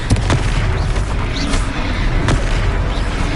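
Hogwarts Legacy's Confringo fire spell goes off during a battle, producing loud, continuous booming blasts with sharp cracking impacts layered over a dense rumbling roar.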